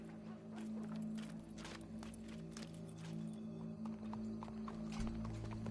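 Horse hooves clip-clop in Red Dead Redemption 2, a steady run of close hoofbeats with a brief whinny, quiet and over a low droning game background.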